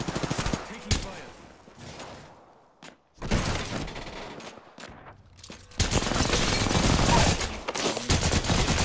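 Loud bursts of automatic gunfire in Apex Legends on Kings Canyon, season 4, arriving in several separate volleys with short lulls and single sharp cracks, ending in a long sustained barrage, with occasional voices in between.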